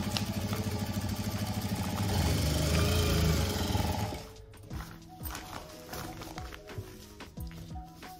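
A sewing machine stitches a seam on a bag made from an old rice sack, its motor whirring steadily and close for about four seconds before stopping, followed by lighter handling clicks and rustles.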